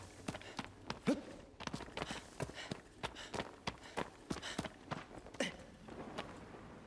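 Horse hooves in the video game Shadow of the Colossus, a run of uneven, fairly close thuds in a loose galloping rhythm over a quiet background.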